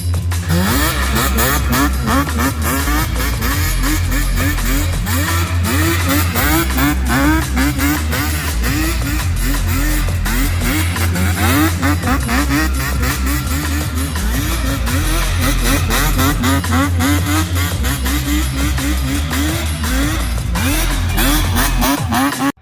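A Yamaha Banshee 350 ATV's two-stroke engine screams continuously, loud and close, rising and falling through repeated revs with a buzzy, rasping tone and no pause.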